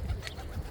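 A brief, soft pigeon coo sounds close by at the Auckland Botanic Gardens, over low background rumble.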